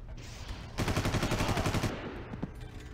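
Rapid automatic gunfire from a Far Cry shooter game, a dense rattling burst lasting about a second, loud and close, with a few scattered single shots before and after.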